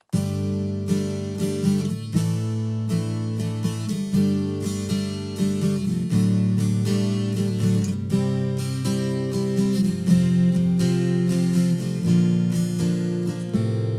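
A strummed and picked acoustic guitar played through blended Dread and Holy Grail impulse responses on a Fractal modeler, a steady rhythmic part with crisp attacks running continuously and no voices.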